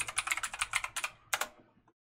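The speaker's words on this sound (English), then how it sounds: "I'm going to go to the search bar and type in standard." Quick burst of computer keyboard typing, about a dozen close, crisp key clicks in fast succession followed by a final pair of keystrokes, alone without speech.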